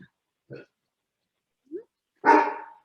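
A dog barks in the background of a remote conversation. Short, faint yips are followed by one louder, fuller bark, with silent gaps between them.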